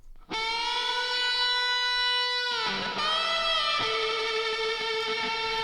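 Electric lead guitar soaked in reverb, a long sustained note followed by bends and shifting held notes that ring and tail off smoothly, heard alone with a wide, spacious wash.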